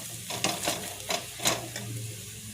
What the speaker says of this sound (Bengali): দিয়ে আলুটাকে একটু ভালো করে লাল করে ভাজতে হবে একটু সময় নিয়ে।